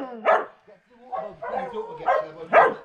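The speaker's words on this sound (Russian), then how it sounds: "Они все лают, гавкают." Dogs bark at a beach on Skiathos, Greece: several loud, close barks and yelps in a quick uneven run, mixed with a voice.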